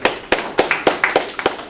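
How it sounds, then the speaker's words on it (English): Audience applause in a conference room: a run of sharp, fairly close claps at an uneven, loose rhythm, like a small group clapping together, with no talk over it. "I think everybody in this room deserves a round of applause for themselves"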